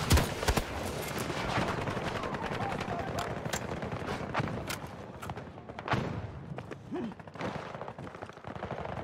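Gunfire in the shooter game Battlefield 2042, a dense clatter of repeated shots and thuds running throughout, busy and fairly loud, with scattered bursts layered over one another.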